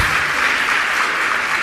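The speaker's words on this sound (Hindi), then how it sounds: "सब बेटियां ताली बजाओ" An audience of girls and young women claps at a Jain religious discourse session, producing a steady, dense wall of applause that holds evenly from start to finish with no talking over it.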